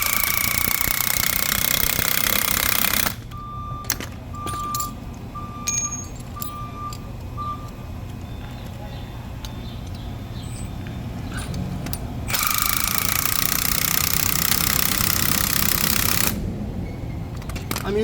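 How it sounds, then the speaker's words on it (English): Loud pneumatic impact gun bursts drive a spring compressor on a Lincoln Corsair / Ford Escape front strut, hammering in two long sustained runs separated by quieter clanks and handling noise. "I'm using an impact gun,"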